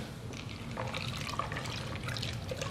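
Pumpkin punch made with seltzer water is stirred, giving a continuous soft sloshing and fizzy trickle at close range, fairly quiet throughout.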